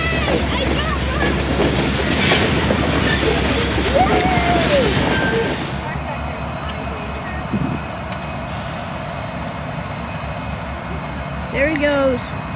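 A train passes close by with a loud, broad rumble and rattle that fades to a quieter, distant roll after about six seconds. Faint voices are heard around it.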